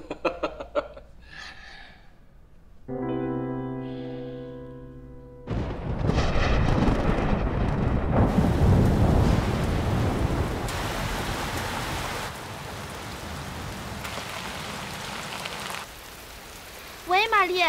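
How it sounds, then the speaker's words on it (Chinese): A heavy rainstorm pours down in a steady, loud wash of broadband noise that fills most of the stretch. A short tonal passage and faint voices come before it, and no distinct thunderclap stands out. "我们这儿下大暴雨"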